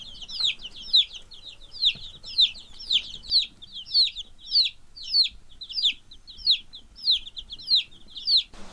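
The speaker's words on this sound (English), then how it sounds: "Day number 4, the chicks are doing good." Baby chicks peep in an even, repeating rhythm, about a dozen bright calls close by and standing out clearly against a quiet background.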